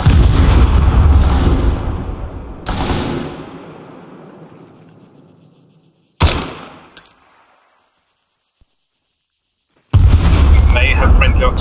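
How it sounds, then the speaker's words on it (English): Friendly artillery fire in ArmA 3: heavy booming blasts at the start with long rumbling decay, a sharp crack near the middle, then silence before another loud burst, all close and powerful. "May have friendly artillery in."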